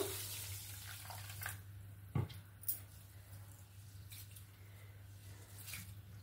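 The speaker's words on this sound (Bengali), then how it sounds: "চালটাকে এবার আমি একটু ধুয়ে নেব।" About 200 grams of Gobindobhog rice washed in water, with faint sloshing, squishing and a couple of soft splashes over a low steady hum.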